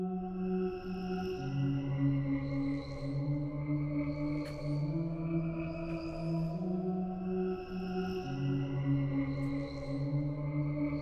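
Dark trap ambient pad built in FL Studio, a sustained layered synth chord drenched in reverb and stereo widening, slowly swelling and shifting notes in a repeating cycle, steady and full with no voices.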